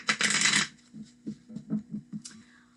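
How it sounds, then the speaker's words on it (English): A deck of tarot cards being shuffled: one dense riffling burst, then a series of soft taps and shuffles at a steady pace, close and fairly quiet. "I'm going to go ahead and shuffle the deck"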